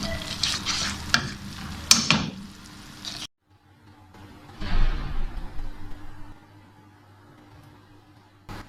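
Apricot chutney roasting in a pan, giving a few seconds of stirring and sizzling, then a brief pause and quieter scraping and bubbling as it finishes cooking.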